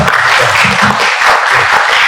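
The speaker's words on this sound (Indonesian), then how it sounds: "Tepuk tangan dulu" Congregation members at a Sunday campus worship service clap together in a loud, close, continuous burst of applause that lasts about two seconds, with a low voice faintly underneath.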